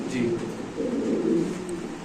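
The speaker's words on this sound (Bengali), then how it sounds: "মা নরের ডাকটা একটু দেখাচ্ছি" Low, throaty cooing of a male pigeon, rolling and repeated, close by, with a person talking over it much of the time.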